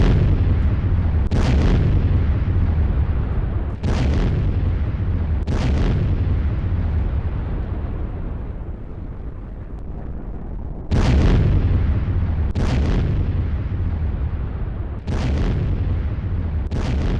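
Cluster bomb explosions in war footage: a string of heavy, booming blasts follows close together, each one a sharp loud onset that decays into a deep rumble filling the whole stretch.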